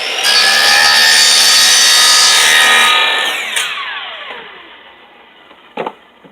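A saw cuts through PVC pipe for a fishing rod holder with a loud, sustained, buzzing cut that winds down after about three seconds. A sharp clatter follows near the end.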